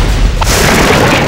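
A booming hit from an all-out attack in the video game Persona 3, a loud burst near the start followed by a sustained rumbling, crashing wash.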